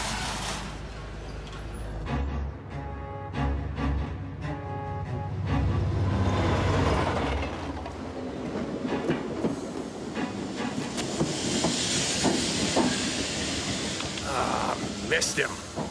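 A subway train runs between stops in an animated adventure, with a steady loud rumble, rhythmic clickety-clack of wheels on rails and rising hiss, continuous and close throughout.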